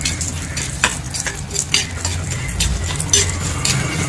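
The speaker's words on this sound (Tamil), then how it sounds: "இது ரெண்டையும் நல்லா வறுத்து எடுத்துக்கலாம்" Dry lentils rattle and scrape in a pan as they are roasted and stirred, with soft clinks of a spoon against metal, continuous and close.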